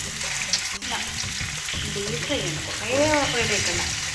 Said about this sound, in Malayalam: ക്യാച്ചപ്പ് മുകളിൽ ഇപ്പോൾ ചിക്കൻ പൊരിക്കുന്നുണ്ട്